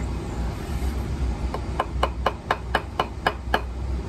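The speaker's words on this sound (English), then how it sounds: "Now I'm gonna start chopping." An axe strikes wood in sharp, evenly spaced knocks starting partway through, about eight strikes in a steady rhythm, over a constant low background rumble.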